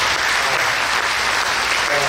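Applause from an audience at a museum event welcoming its new executive director, a steady wash of clapping heard up close, with a faint voice underneath.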